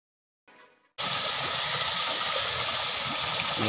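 A large motor pump runs for a pool waterfall, cutting in suddenly after a faint lead-in and then holding a loud, steady rush of pumped water and machinery with no talk.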